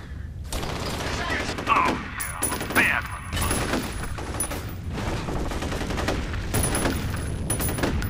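Rapid gunfire rattles through a firefight in the shooter game F.E.A.R. Extraction Point: loud automatic bursts and shots with mechanical clatter across the whole stretch.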